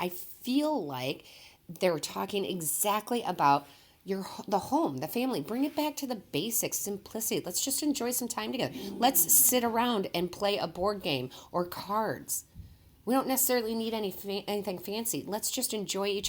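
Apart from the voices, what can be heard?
No distinct noise like a dog, phone or traffic.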